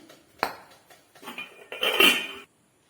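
Idlis are lifted out of a steaming idli pot with the stove switched off, giving a sparse series of metal clinks and scrapes of plates and utensils, close and moderately loud, with no talking.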